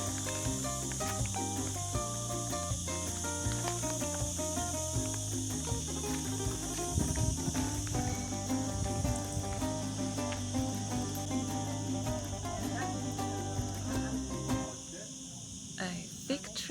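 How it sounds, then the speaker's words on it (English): Crickets chirp in a steady, dense trill through a quiet night in a rural garden with fig and lemon trees, continuous and fairly close, with music playing alongside. "Yeah, the crickets"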